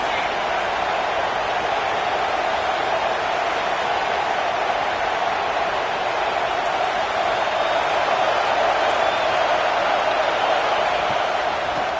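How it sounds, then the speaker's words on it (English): Ohio State Buckeye home crowd in the NCAA 26 college football video game roaring on third down, a constant broad wash of stadium noise at steady loudness with no distinct breaks. "The Buckeye crowd alive on 3rd down."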